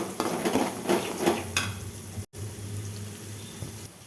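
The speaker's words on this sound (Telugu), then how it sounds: "ఇప్పుడు ఇందులో ముందుగా తరిగి పెట్టుకున్న ఆనియన్ను వేసుకోవాలి ఇవి బాగా దోరగా ఎర్రగా వచ్చేంత వరకు వేపుకోవాలి" Chopped onions fry and get stirred in a pan for mutton fry, a steady close sizzle with scraping spoon strokes, a brief gap midway, no talking.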